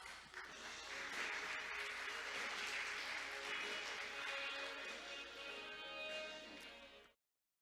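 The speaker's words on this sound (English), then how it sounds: "Let's welcome him onto the stage with a huge round of applause." Audience applause welcoming Busan's Vice Mayor for Economic Affairs onto the stage at a Korea Maritime Week event, steady and fairly faint in a large hall, holding for about seven seconds before cutting off abruptly.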